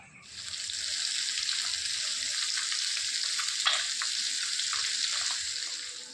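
Bengali egg curry simmering and frying in a pan on a home stove, a steady close sizzle with light bubbling and a soft stir scrape midway, fading in and out at the edges.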